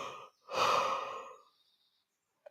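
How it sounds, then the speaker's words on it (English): Yawn during a yoga exercise, a single long, breathy exhale that rises and fades, preceded by a short breath, then a brief click at the end. "And this is the yawn."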